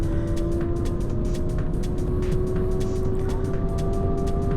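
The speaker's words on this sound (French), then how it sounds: "Launch control prêt, accélérer à fond, c'est ce que je fais et je n'ai plus qu'à lâcher le frein et c'est parti." Alpine A290 hot hatch accelerating at full throttle from a launch control start on a race track, a steady rising engine tone over heavy road and wind noise, with repeated sharp ticks, continuous and close.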